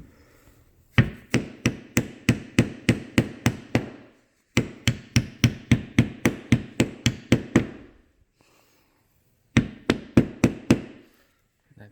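A hammer taps a Toyota Prius rear spoiler in quick, evenly spaced bursts of about a dozen sharp close strikes each, with three runs split by brief pauses.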